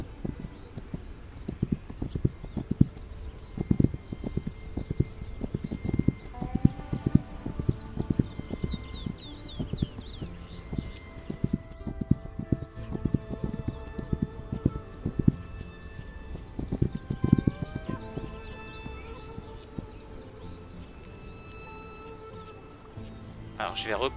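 A horse climbing a slope in the video game This Land is My Land clops steadily, its hoofbeats close and rhythmic, with an occasional whinny and game effects chiming over them, while someone talks throughout.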